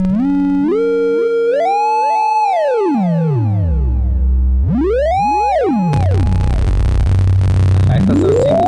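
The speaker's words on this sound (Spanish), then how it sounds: "transformar las ondas sinusoidales en ondas triangulares, en ondas cuadradas, en ondas de sierra" Synthesizer tones sweep up and down in pitch, moving from smooth, pure sine-like glides to harsher, buzzier waveforms with a noisy edge, loud and continuous with no talk.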